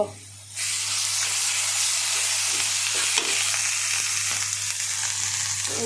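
Fried onions with a ground paste of salt, turmeric, ginger, cumin and garlic hit the hot pan, bursting into a loud, steady close sizzle that carries on with faint stirring sounds, without talk.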